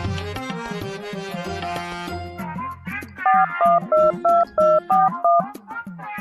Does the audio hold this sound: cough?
no